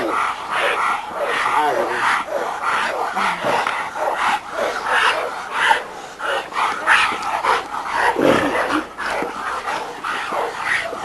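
Dogs in a yard bark and yip repeatedly, close and loud, with a few whimpers, while someone talks over them.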